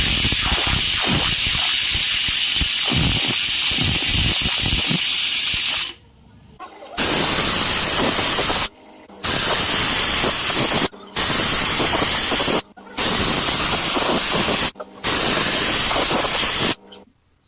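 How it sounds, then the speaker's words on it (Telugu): Loud, continuous hissing of steam escaping a pressure cooker boiling a snack for a festival offering, broken by several brief silent gaps, close to the microphone with no voices. "కుక్కర్ క్యాప్ పెట్టేసుకొని కుక్కర్లో 5 విజిల్లు వచ్చే వరకు ఉడకబెట్టుకుందాం."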